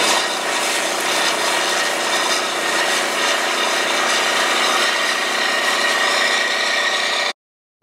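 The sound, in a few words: tractor PTO-driven manure tank applicator running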